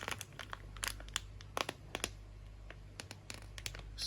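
A small packet of Purigen aquarium filter media is handled close up, giving dense crinkly plastic rustles and clicks over a steady low hum, with no talk.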